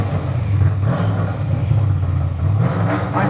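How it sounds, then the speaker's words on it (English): Old car engine revving from the driver's seat: a loud, close, rumbling low-pitched drone that swells and surges through several throttle pushes, with no talking. "let's get inside and go for a rev"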